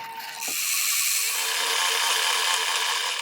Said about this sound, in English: I'm just going to hit go and let it stitch